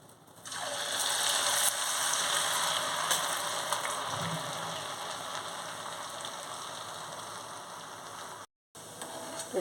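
Poha murukulu sizzling steadily in hot oil, a dense continuous crackling fry that holds throughout at moderate loudness, with a brief silent cut near the end.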